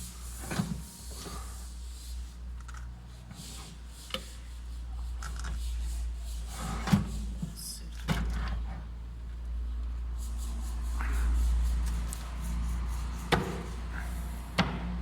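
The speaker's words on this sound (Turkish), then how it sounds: "Çekmecelerimiz de bu şekilde frenli." Soft-close drawers in a Mercedes Sprinter caravan kitchen slide shut, giving a series of quiet, cushioned knocks and rolling slides spread over a hushed room, with no one talking.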